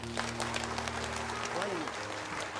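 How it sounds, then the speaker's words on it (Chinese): A group on a film set claps briefly to welcome Mr. Lee, Bruce Lee, as a new cast member. The moderate clapping sits over a steady low hum. "我们再一次为李先生的加入而鼓掌"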